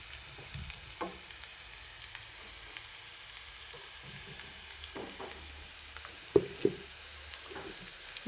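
Onions frying in a pan, a faint steady hiss with occasional quiet taps and small crackles, a couple of slightly louder clicks toward the end.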